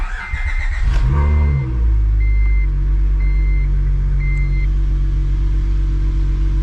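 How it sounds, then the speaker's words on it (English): A 2004-2008 Acura TL fitted with solid engine mounts cranks over and starts, a burst of starter whir settling into a loud, steady, low idle rumble with a faint repeating beep. "So we're gonna start it up and see how bad it vibrates."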